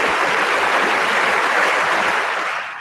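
Applause plays on an Italian radio show as a dense, steady wash of clapping that holds evenly and fades out near the end, with no talk over it.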